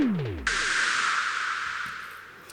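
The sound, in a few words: white noise hit made on a synth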